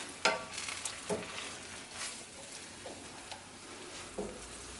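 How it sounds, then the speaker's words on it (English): A pot of mushroom and butternut squash risotto is stirred after vegetable stock goes in, faint bubbling under a few soft spoon scrapes and taps, quiet and close with no voices. "I'm going to add all of my veggie stock and stir this."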